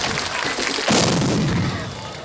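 Cannon fired in a studio during a rock band's performance, a sudden loud blast that cuts in abruptly over guitar noise and leaves a rumbling roar decaying afterward.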